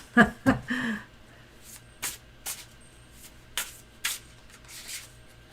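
Playing cards are shuffled up close: a few quick riffling bursts, then spaced flicks and snaps against a quiet background.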